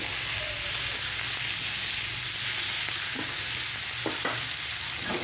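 Beef steak sizzling steadily in a pan as its fat renders out, a continuous close crackle and hiss with a few brief louder spits and no talking.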